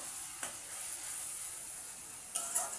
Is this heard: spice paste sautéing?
yes